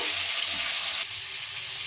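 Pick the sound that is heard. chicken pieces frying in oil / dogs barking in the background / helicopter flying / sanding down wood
chicken pieces frying in oil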